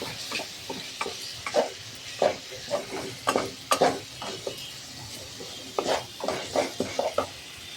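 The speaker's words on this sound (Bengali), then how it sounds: "দিয়ে এবার আবারও আমি মশলাটাকে ভালো করে কষে নেব" Spice paste for egg tarka being stir-fried in a pan, with repeated rhythmic spatula scrapes and clinks over a soft steady sizzle, close and fairly loud, no talking.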